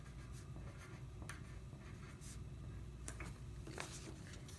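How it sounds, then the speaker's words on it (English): A pencil writes a name on paper in a quiet room, producing faint, soft scratching strokes in short irregular bursts, with no talking. "I'm going to get my pencil and write my name."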